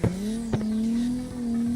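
A Toyota Crown drift build in a car video game slides sideways, its tires squealing in a steady, loud tone under a droning engine, with a brief bump near the start and another mid-clip.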